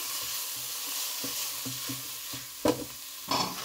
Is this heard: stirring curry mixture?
yes